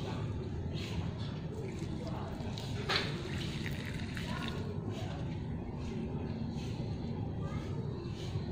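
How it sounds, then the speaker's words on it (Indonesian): Soft trickling and splashing of water poured onto potted succulent plants, steady and quiet, with light background noise. "Oke, kita siram ya."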